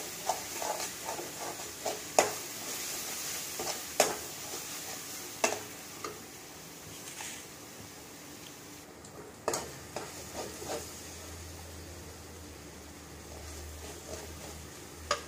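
Masala and coriander powder stirred in a frying pan for a cauliflower kurma, giving repeated soft scrapes and sharp spoon clicks against the pan over a faint steady sizzle, close and continuous with no talk.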